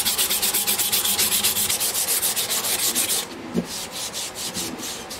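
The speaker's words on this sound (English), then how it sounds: "I'll move on to the next step here with the sandpaper. As I said, this is 180." A 12-string custom dreadnought guitar neck being sanded by hand with 180 grit sandpaper, steady rhythmic back-and-forth strokes, close and loud, continuing without talk before easing briefly and resuming.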